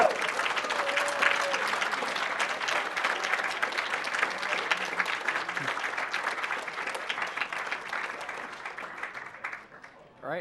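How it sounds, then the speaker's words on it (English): Sustained audience applause and cheering at Awesome Games Done Quick, a live speedrunning charity event, following an F-Zero GX run; steady dense clapping from a large crowd that tapers off near the end. "Another round of applause."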